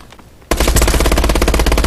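Rapid automatic gunfire from a video game bursts in after a brief quiet start, a loud, dense stream of shots with no pauses.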